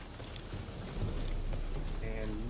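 Rain in The Witcher 3, a steady wash of falling rain with a soft hiss of drops that grows slightly fuller partway through, heard alone under faint game ambience.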